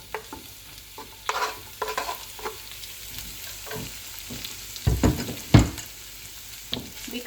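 A small cubed onion sizzles gently in a pan with garlic while a spoon scrapes and stirs it in irregular strokes, with louder clanks and scrapes toward the end and no talking.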